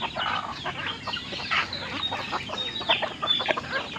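Texas gamefowl chickens clucking in a rural farmyard, a steady stream of soft, overlapping clucks and short calls from several birds at close to moderate distance, with faint higher chirps mixed in.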